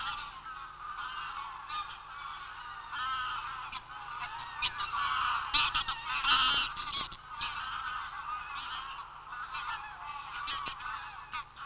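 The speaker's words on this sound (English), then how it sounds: "Forest lochs provide safe roosts, and the geese will return nightly after feeding in the local fields." Flock of geese honking steadily at a forest loch as they return to roost in winter, a dense chorus of overlapping calls with a few louder bursts near the middle, no voices.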